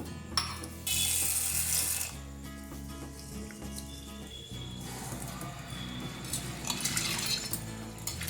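Black gram, green gram, chana dal and rice are washed together in water, with steady sloshing and trickling close by, under a continuous tonal background.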